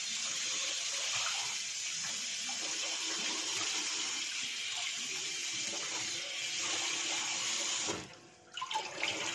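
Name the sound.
washing meat and cow leg in running water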